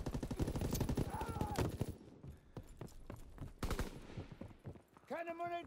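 Call of Duty WWII battle in Sainte-Marie-du-Mont, with rapid machine-gun and rifle fire in loud clustered bursts, a pause, then more sharp shots, ending with a shouted voice.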